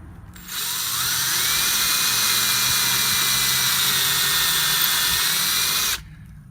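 A steady, high-pitched drill whine as a drill bores into a wood board runs at a constant pitch for several seconds, close by, then cuts off abruptly.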